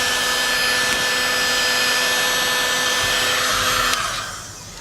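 A heat gun blows hot air onto tint film on Nissan Xterra taillights, a steady loud whooshing hum with a whine that fades down as it switches off near the end.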